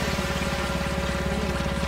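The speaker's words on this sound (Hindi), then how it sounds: "मैं सुसू कर रहा था क्या?" Steady trickling pour of liquid into water as a character urinates in the video game GTA 5, a continuous close splashing stream running alone without pauses.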